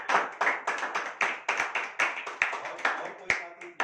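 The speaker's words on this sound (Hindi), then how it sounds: "अरविंद जी के लिए एक बार तालियां हो जाएं।" A small group clapping for Arvind Kumar at a training session, uneven rhythmic claps for about four seconds, close and fairly dry, with a little talk mixed in.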